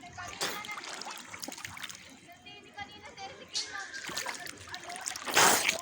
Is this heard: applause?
no